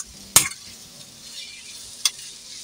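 Ivy gourd curry fries in a pan for a curry point style dish, a quiet low sizzle broken by two sharp scraping clinks of a spoon stirring against the pan.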